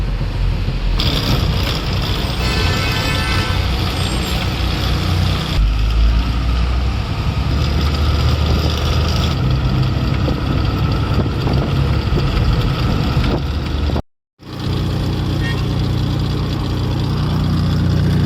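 A loaded truck's engine runs steadily, pulled over at the roadside, with a loud, close, even rumble that drops out for a moment before resuming.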